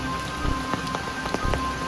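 Rain falls steadily on an umbrella in the Konkan countryside, a close, continuous patter with scattered sharper drop taps and no talk.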